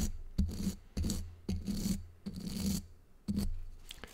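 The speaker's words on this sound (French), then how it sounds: "Alors je brosse un petit peu là." Hair being brushed in a close-up ASMR barber roleplay: repeated, rhythmic bristly strokes, each a short raspy swish about every half second, close and crisp, with no talking.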